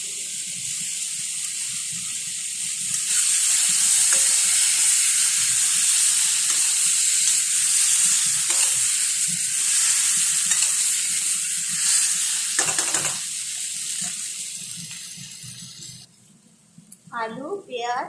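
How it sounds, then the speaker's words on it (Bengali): Diced potatoes, onion and green chilli sautéing in a pan for a kofta curry, a loud steady sizzle with occasional stirring scrapes; toward the end the frying fades and a voice speaks. "টমেটো ভালো করে সাঁতলিয়ে নিলাম"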